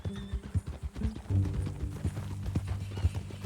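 A horse's hooves clip-clop at a walking pace in Red Dead Redemption 2, close and rhythmic, with a brief whinny near the start and no talk over it.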